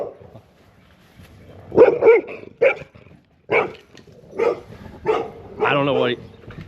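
Dogs nearby bark and yip in short irregular bursts, with one drawn-out whining howl near the end, loud and close, mixed in with a person speaking at intervals.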